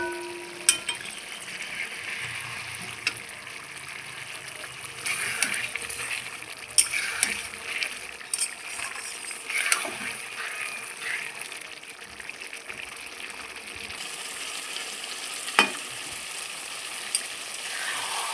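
River fish chachchari stirred gently in a frying pan, a steady close sizzle of oil with soft intermittent scrapes and clinks of the spatula through the whole stretch.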